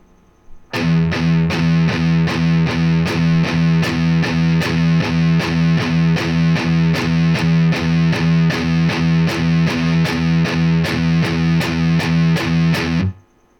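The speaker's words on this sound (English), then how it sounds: "let's just have a look and listen to the eighth note rhythm." Heavily distorted electric guitar chugs a steady, fast eighth-note thrash metal rhythm, evenly spaced palm-muted hits repeating loud and close for about twelve seconds before stopping abruptly.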